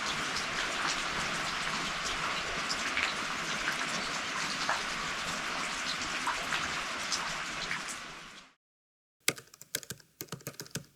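Steady, dense rain patters on a camping tent during a bikepacking trip, a continuous close hiss of drops for about eight seconds. It then stops abruptly, leaving silence and a few sparse ticks and taps.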